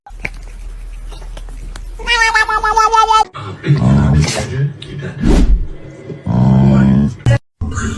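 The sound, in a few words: cats meowing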